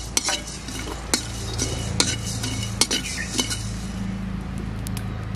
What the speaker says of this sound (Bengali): শুকনো খোলায় এখন বড় বেশি আর দারচিনি ভেজে নেব একসঙ্গে।